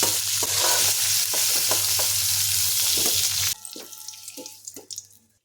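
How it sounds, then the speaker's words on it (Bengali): Cauliflower frying in oil in a pan while being stirred, a loud steady sizzle with rhythmic scraping strokes that cuts off abruptly, leaving quieter clinks and stirring noises. "এবার নেড়ে ফুলকপিটা ভেজে নেবো।"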